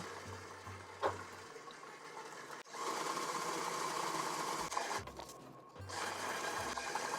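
An electric stand mixer runs at low speed, around setting 2 or 3, beating eggs into chocolate chip cookie dough, a steady close whirring hum with a brief pause partway through and no talking.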